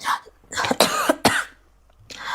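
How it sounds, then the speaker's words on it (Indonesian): Several sharp coughs with a throat-clearing sound, close by and fairly loud, spaced across a couple of seconds without speech. "Kok batuk ya?"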